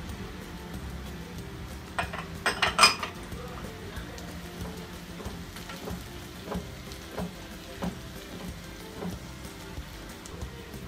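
Cashews and raisins frying in a pan with oil for masala dosa filling, a soft sizzle under light clinks of a spoon against the pan, with a cluster of sharper taps early on.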